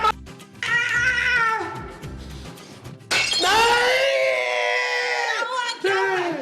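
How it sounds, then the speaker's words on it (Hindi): A magic mirror smashes in an animated scene, a sudden bright crash cutting in partway through, with the ringing of breaking glass continuing loudly after meow-like cartoon cries. "तुमने मेरा जादुई शीशा तोड़ दिया है।"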